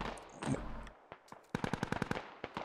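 Gunfire in a military video game skirmish, rapid automatic bursts of sharp shots in quick succession, fairly close, after scattered earlier shots and a brief muffled blast.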